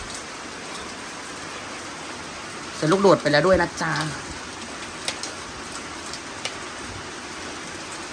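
Steady rain hisses evenly throughout, with a person speaking briefly partway through over the constant patter.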